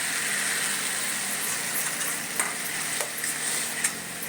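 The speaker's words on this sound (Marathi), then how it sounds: "आणि हा टमाटा पूर्ण शिजेपर्यंत याला परतून घ्यायचं।" Tomato puree made from two blended tomatoes sizzles in a pan with spices for paneer masala while a spoon stirs it, a steady frying hiss broken by a few light scrapes and taps.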